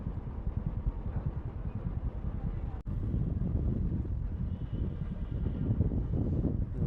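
Passenger river launch on the Buriganga near Dhaka, its engine a steady low rumble with wind buffeting the microphone, continuous and close with one brief dropout midway.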